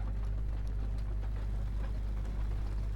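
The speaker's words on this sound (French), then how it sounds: "J'entends un moteur de char juste à gauche." A tank engine in a video game rumbles close by as a steady, low, droning hum, alone and unbroken throughout.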